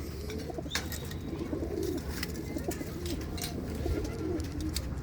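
Pigeons in a wire-mesh cage coo in low, repeated murmurs, a steady close chorus over gusting wind, with occasional faint higher chirps.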